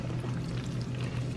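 Pink pasta sauce poured from a container in a short, soft, continuous thick glugging stream, close by and quiet.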